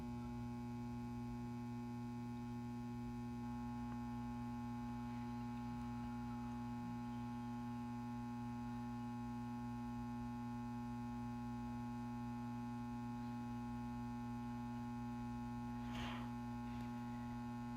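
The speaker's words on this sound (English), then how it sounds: "You can hear the hum of the ballast. It's very loud." The ballast of a Venture Lighting 175W pulse-start metal halide lamp hums loudly and steadily without a break, low and tonal with layered overtones, plus a faint click near the end.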